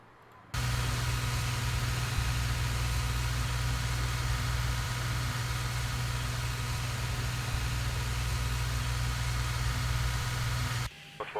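An aircraft ground power unit generator runs steadily at an airport ramp, a loud continuous low drone with a constant hum from start to near the end, then cuts off abruptly.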